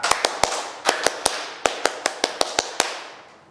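A group performs the scout clap (tepuk pramuka): sharp, loud, unison claps in a syncopated rhythm of short bursts with brief pauses, about fourteen claps in all, each ringing briefly in a reverberant room.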